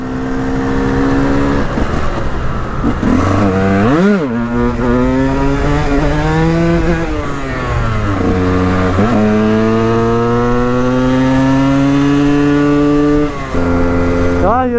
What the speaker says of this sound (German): Hier ist man natürlich mit dem Motorrad schneller.